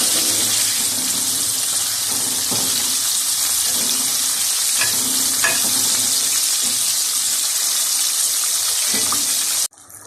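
Hot chicken wings frying in oil, a loud, dense, steady hiss and crackle up close that runs unbroken for about ten seconds, then drops off abruptly at the very end, with a few faint clinks and no talk.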